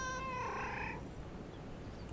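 A cat gives a short, faint meow at the start, a brief wavering cry that fades within a second over a quiet room background.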